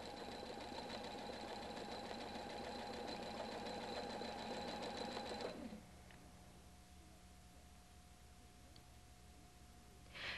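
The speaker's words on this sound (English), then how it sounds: "because the feed teeth are down, you move the fabric as you sew" A Husqvarna Viking Designer 1 sewing machine free-motion stitches with its feed teeth lowered, running steadily and close for about five seconds, then a quieter mechanical hum holds until a faint click at the end.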